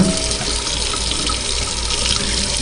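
Hot tap water runs steadily over rye berries being rinsed in a sink, a loud continuous splashing rush that fills the whole moment with no voices.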